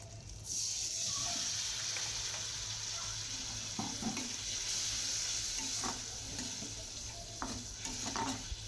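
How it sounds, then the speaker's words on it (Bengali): A masala of Kashmiri red chilli powder and turmeric powder fries in a pan with a steady close sizzle, broken by occasional scrapes of a spatula stirring, with no speech. "দিয়ে দিলাম সামান্য একটু হলুদ গুঁড়ো, দিয়ে মশলাটা কষিয়ে নিচ্ছি"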